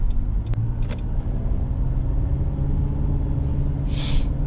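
Steady car engine rumble from inside a moving vehicle on an unpaved dirt road in Australia, with a few brief clicks and a soft hiss near the end.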